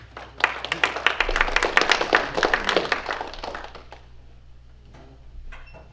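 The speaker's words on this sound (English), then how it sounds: "might want to hold that applause." Audience applause after a speaker is welcomed at a Hicksville Rotary Club meeting, a burst of scattered claps building quickly then thinning out, with faint murmurs near the end.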